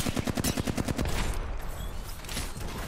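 Rapid bursts of automatic gunfire in the battle-royale shooter Apex Legends, a dozen quick evenly spaced shots in the first second, then a denser, steadier wash of distant firing and game noise.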